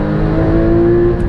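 A Porsche Cayman GT4 engine drones steadily while the car is driven, a loud, close, sustained tone with strong low harmonics and no talk over it.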